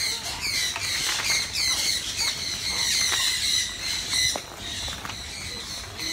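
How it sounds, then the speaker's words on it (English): Loud, dense squawking from many birds fills an open aviary at Jurong Bird Park in Singapore, with continuous overlapping calls and brief sharp cries, as if heard from close by among the flock. "There's lots of birds here."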